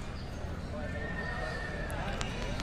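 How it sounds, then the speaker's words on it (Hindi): Horses at a livestock fair in Sisai, with steady hoof clops and occasional whinnies over a dense, continuous crowd murmur and voices close by. "काफ़ी अच्छे घोड़े आए हुए हैं इस मेले में"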